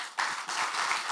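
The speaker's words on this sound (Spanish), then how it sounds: "Un fuerte aplauso" Audience applause for a panel at a supply-chain conference, a brief burst of dense clapping heard fairly quietly over about a second.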